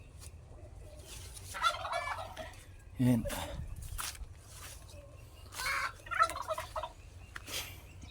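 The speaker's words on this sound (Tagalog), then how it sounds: "Yun yung mga pabo natin." Farm turkeys gobble in several rattling bursts, some close and fairly loud, with quiet background noise and a brief spoken word between the calls.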